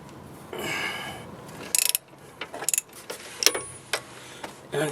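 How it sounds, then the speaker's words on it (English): A ratchet clicks in short bursts while cracking loose 13mm bolts on Jeep Liberty rear brakes, the sharp metallic ticks and snaps coming close but fairly quiet over a soft background hiss. "Got my ratchet on loose in here. Go ahead and crack these loose here."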